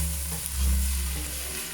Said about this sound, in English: So I'm going to dump them onto my pot. Saute.